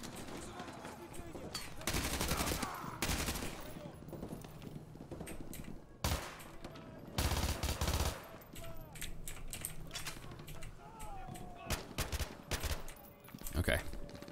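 Repeated gunfire aimed at the player in MW2 Remastered's Exodus campaign mission on Veteran difficulty, several loud automatic bursts and scattered single shots spread throughout, close and intense, with a voice talking in between.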